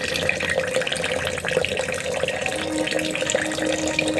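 Water is poured into a container and mixed, making a continuous close splashing, trickling wash with no speech over it.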